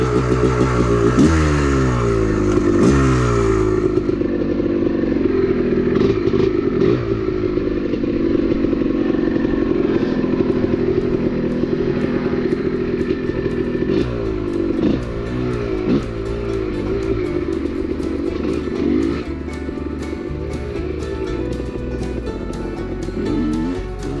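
A Honda two-stroke motorcycle engine revs loud and close, with repeated throttle blips rising and falling over a raspy, crackling idle that runs unbroken throughout.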